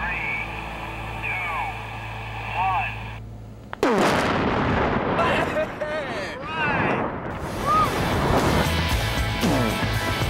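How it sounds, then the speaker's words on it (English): A huge explosive charge blows up a concrete-filled cement truck in one sudden, enormous blast, followed by a long rolling roar and rumbling echoes, with people talking and exclaiming before and after. "We've got a huge amount of explosive in there, and we will not have much concrete left."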